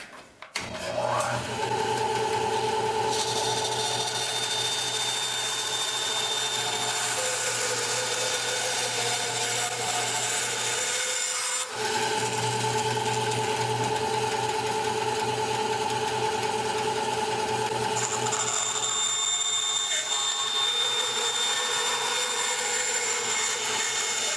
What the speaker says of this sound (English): I think I'll go to the bandsaw and saw it out rough first